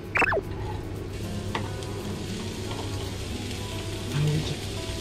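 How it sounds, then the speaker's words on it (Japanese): Food stir-fried in a pan at home, with a steady soft sizzle and crackle running through the whole stretch, and a few brief clinks near the start and end. "やることは炒めるもんね、炒める"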